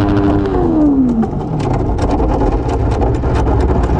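A motorcycle engine revving hard on a hairpin exit, its rising pitch dropping off as the rider shifts into second gear, then settling into a loud, rough steady drone close by.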